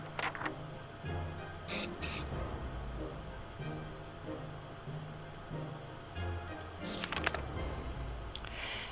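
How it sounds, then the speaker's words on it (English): Short bursts of bug spray hiss in the video game 60 Seconds!, two quick ones close together and another pair later, over a low steady background. "Bug spray."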